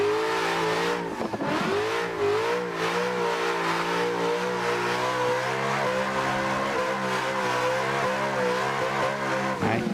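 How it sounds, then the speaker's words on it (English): A race car engine in the Assetto Corsa driving game revs hard and continuously while drifting around a police car, a loud sustained whine with pitch shifts and tire noise, no talking. "drift around the cop car"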